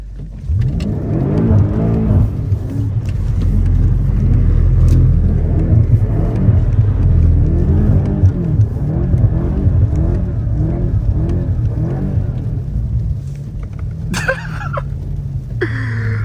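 A BMW F90 M5 engine revs hard again and again while drifting in a pit, rising and falling in loud, rumbling surges close by, with a brief squeal near the end.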